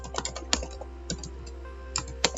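Someone types code on a computer keyboard, producing close, crisp keystrokes in short irregular bursts with brief pauses between them, heard alone without talking.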